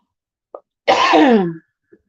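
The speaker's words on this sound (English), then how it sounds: "I'm still trying to get rid of that little bit of a tickly cough I've got" A single harsh cough or sneeze-like burst, close and loud, preceded and followed by brief faint breaths.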